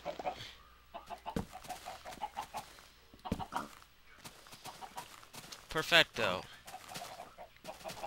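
Chickens clucking in a Minecraft chicken coop, short intermittent clucks and squawks mixed with game sounds, with a person speaking briefly over them.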